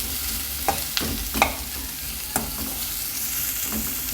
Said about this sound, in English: and saute the onion